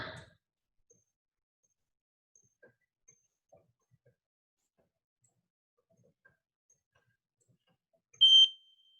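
Mostly quiet room with a few faint soft knocks, then a single short electronic beep sounds clearly near the end.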